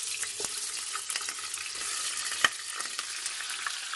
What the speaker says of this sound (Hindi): उसको ज़रा हीट कर लेना है और हीट करके अपने चिकन को ऐड कर देना है